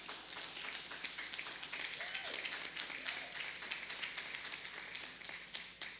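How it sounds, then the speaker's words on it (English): Audience applause at a youth awards ceremony honoring a sports excellence awardee: a steady wash of many hands clapping at moderate distance, fairly faint and continuous for several seconds with no voices over it. "Round of applause, please."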